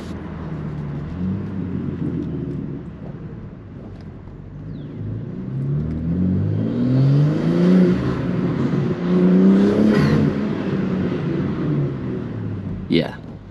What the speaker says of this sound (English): This thing sounds awesome.